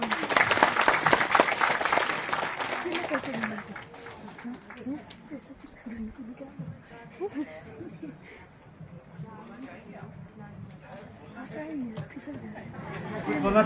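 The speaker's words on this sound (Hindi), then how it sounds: "जोरदार तालियां एक बार।" An audience at a magazine launch ceremony in a hall breaks into loud applause that fades after a few seconds into crowd chatter and murmuring, with clapping briefly rising again at the end.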